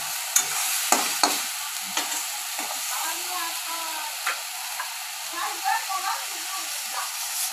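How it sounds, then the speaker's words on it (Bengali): Onion, ginger and garlic frying in a pan, a steady hiss of oil broken by sharp scrapes and clacks of a stirring spatula, with a faint voice murmuring at times. "পেঁয়াজ, আদা, রসুনটা ভালো করে লাল লাল করে ভেজে ফেলবো।"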